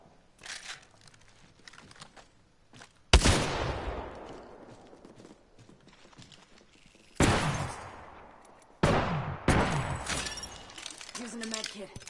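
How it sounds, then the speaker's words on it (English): Enemy gunfire in the video game Apex Legends cracks out in several sharp bursts, each followed by a crunching, shattering decay, with quieter rattling between volleys. "The enemies are shooting at me"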